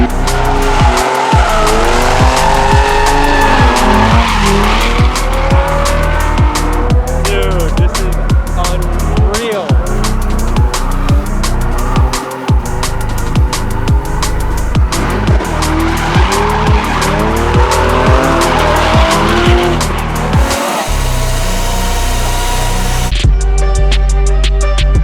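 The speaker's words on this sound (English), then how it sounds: "your car's drifting, boys" Drift cars at a Dubai drift track slide in tandem with loud, sustained tire squeal and revving engines rising and falling in waves, close and continuous throughout.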